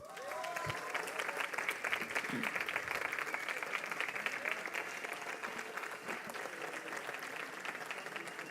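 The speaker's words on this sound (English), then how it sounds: "A round of applause." A crowd at an award ceremony applauds steadily throughout, dense clapping that holds at an even level from start to finish.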